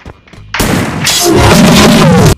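A loud, sudden double-barrel shotgun blast in Free Fire MAX cuts in after soft clicks, followed by a booming, reverberant tail.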